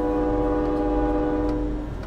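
A train horn blares loud and sustained as a steady, tonal chord over a low rumble of the moving train, fading slightly at the end, with no voices.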